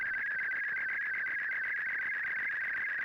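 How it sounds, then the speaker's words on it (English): Slow scan television data signal from the video game Genesis Noir: a steady, piercing electronic tone warbling with rapid modulation, continuous and harsh throughout, with no talking over it. "This is an image in noise format. It's called slow scan television."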